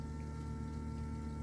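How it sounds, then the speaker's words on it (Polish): A coolant pump runs in a Peugeot iOn / Mitsubishi i-MiEV / Citroën C-Zero electric car left plugged in to charge, giving a steady, continuous low hum with faint liquid churning throughout. "włączyła się ta pompa, podczas gdy zostawiłem po prostu podłączone ładowanie"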